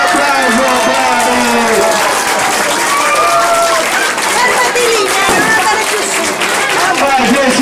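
A large audience of families applauds and cheers at a school's 70th anniversary celebration, dense continuous clapping with crowd babble and raised voices throughout, loud and close.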